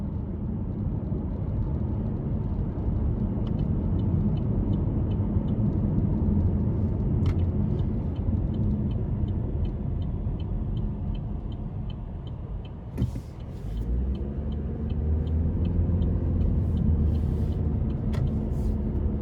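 Cabin of a 2021 Chevrolet Malibu RS with 1.5 engine driving out of a parking lot, a steady low road and engine rumble with a brief bump thud partway, no talking.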